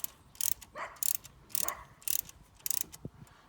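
Crank handle on a Cherokee Alpha Wolf 26 DBH-L camper being turned, giving repeated ratcheting clicks in regular bursts, close and fairly quiet, with a light mechanical squeak between turns.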